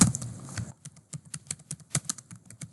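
Fast typing of HTML code on a computer keyboard, a quick irregular patter of close key clicks that follows a brief rustle at the start, with no voices.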